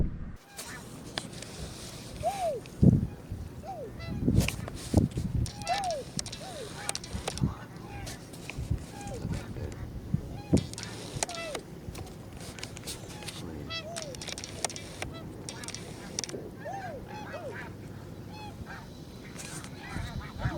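A large flock of snow geese honks continuously at a distance over open hunting ground in North Carolina, many overlapping calls forming a busy chorus, with occasional louder nearby calls and a voice now and then.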